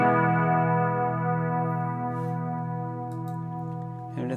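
A sustained electric guitar chord with a light, crunchy overdrive from a Fractal Audio FM9 Turbo rings out steadily and slowly fades, ending with a soft pick scrape.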